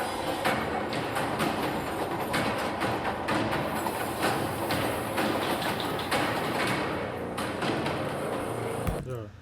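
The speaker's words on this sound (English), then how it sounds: "Moving subway trains, riding the metal beast in a dangerous game of subway surfing." Moving New York subway train heard from inside a car, a loud continuous rumble and metallic rattle with clanks and bangs throughout, ending in a brief change near the end; voices talk faintly underneath.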